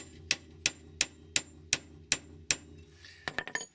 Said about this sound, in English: chiseling away until I've cut my way through